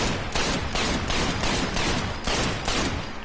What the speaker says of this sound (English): This is the Luger P08, World War I era German pistol, and used by the officers in World War II.